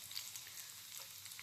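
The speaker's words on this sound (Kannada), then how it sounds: "ಸೊ ಫಸ್ಟ್ ನಾವು ಚಾಪ್ಡ್ ಗಾರ್ಲಿಕ್ ಹಾಕೋಣ." Chopped garlic fries in a pan with a soft, steady sizzle and crackle, faint and continuous with no talking over it.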